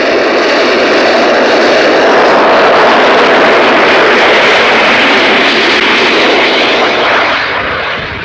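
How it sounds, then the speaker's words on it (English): A Jindivik jet target drone roars overhead at a missile test range, a loud, steady jet engine rush that swells and holds before easing slightly at the end. "the Jindivik makes a practice run to the planned intercept position to establish that all posts and systems can meet the trial objectives"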